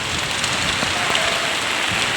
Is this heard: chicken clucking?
no